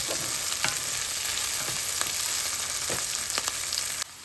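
Steady crackling sizzle of drumstick (moringa) frying in hot ghee, with occasional sharper pops and stirring scrapes, close and continuous, ending with a slight drop.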